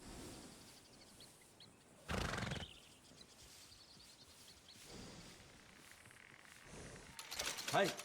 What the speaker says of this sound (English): That's a good workhorse.